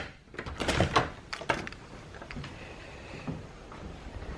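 A door opening from a small kitchen onto a picnic area at a Hawaiian state park lodging, heard as a few close clunks and clicks of the latch and frame, then a quieter stretch of room noise.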